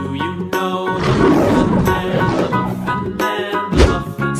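A tiger roars in a painting-and-crossing animal video game, a loud, growling roar lasting a few seconds amid chiming game sounds and musical tones, with no talk.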